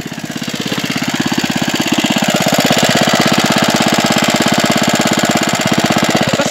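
An old Bernard W19A single-cylinder engine, being brought back into running order, chugs steadily with a loud, fast, even pulse of firing strokes that swells slightly and then holds, close by and alone.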